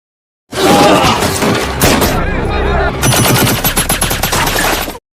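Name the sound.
gunfire and bombs in a war movie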